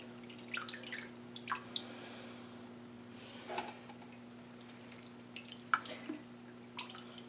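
Raw Irish moss lifted from a bowl of water drips and trickles back in, giving sparse, irregular close drops and small splashes over a quiet steady hum.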